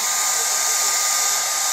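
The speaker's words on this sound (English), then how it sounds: "using a blow dryer, I had to clean off the tip of my needle" A blow dryer drying airbrush paint on rayon fabric gives a steady, loud, high whooshing hum, running alone without pause.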